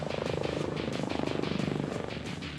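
An HAL Prachand Light Combat Helicopter flies overhead, its rotor producing a steady rapid chopping thump with a droning engine beneath, loud and continuous throughout.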